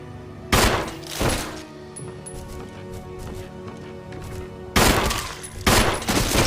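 Gunshots from the video game Resident Evil 1 fire as a few loud separate blasts, two close together early and more later, over a steady low game background; no talking.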